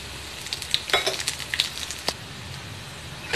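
Chana dal and urad dal frying in oil in a pan, a close, steady sizzle with scattered sharp pops and crackles and a few stirring scrapes.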